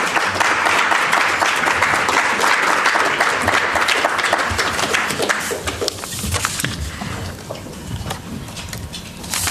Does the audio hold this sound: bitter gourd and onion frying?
no